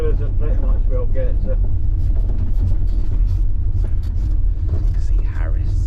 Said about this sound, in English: we're about to get back on the bus now